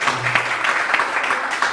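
Audience applause at a live show where a boy imitates different sounds: a short, steady burst of dense clapping with no talk, lasting under two seconds.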